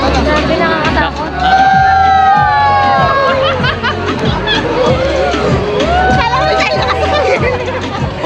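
Crowd at an amusement park in Dubai shouts and screams from the rides, a loud, dense din of many voices with rising shrieks and wavering wails continuing throughout, close and busy.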